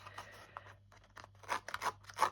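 A Tim Holtz distressing tool with tiny blades scrapes along the edges of an old photo, producing a few short, dry rasping strokes that grow louder toward the end, with a low steady hum underneath.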